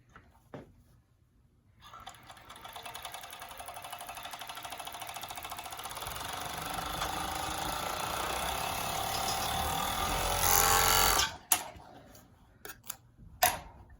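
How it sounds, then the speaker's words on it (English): A Juki 6814 two-needle, four-thread overlock machine sews Lycra, starting after a few clicks into a steady whirring run of about nine seconds that speeds up briefly before stopping, followed by sharp handling clicks. "So you see, without even doing anything in the machine, it's sewed Lycra, it stretches, and it's got a good seam."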